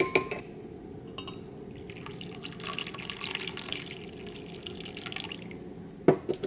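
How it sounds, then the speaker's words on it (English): Coffee is poured into a glass, giving a quiet trickling, dripping liquid sound for several seconds, framed by a couple of sharp clinks at the start and end. "Are you ready for the pour?"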